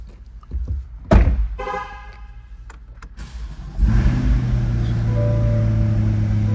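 A 2020 Corvette coupe engine cranks and catches, then settles into a loud, deep, steady idle rumble close by, with a brief sharp blip early on.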